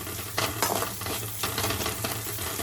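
Cabbage manchurian with curry leaves and coriander being stirred in a pan over high flame, a steady close sizzle with bursts of scraping and stirring strokes throughout.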